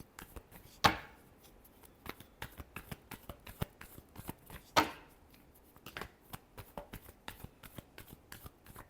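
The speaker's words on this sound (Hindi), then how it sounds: "Last shuffle." Tarot cards shuffled by hand in a quiet room, a run of soft riffling taps and brushes with two sharper, louder snaps standing out, near and close to the ear.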